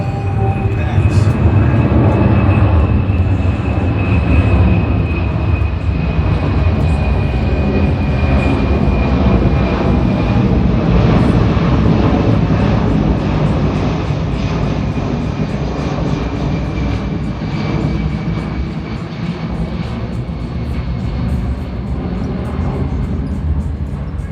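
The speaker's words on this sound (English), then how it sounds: "you hear and feel the weight of this airplane right now" A heavy airplane makes a slow, low pass with its landing gear down at the MCAS Miramar air show, a loud continuous engine roar and rumble holding steady for the whole stretch.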